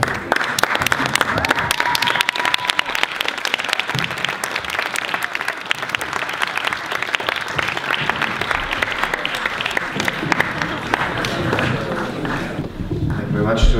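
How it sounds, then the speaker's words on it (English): Wedding guests at the reception give the best man's toast a long round of dense, close applause that stays steady before tapering off, with a few voices speaking toward the end. "So I just want a huge round of applause and a toast to the happy couple."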